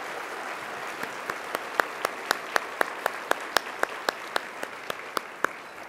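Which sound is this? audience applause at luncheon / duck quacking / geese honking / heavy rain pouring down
audience applause at luncheon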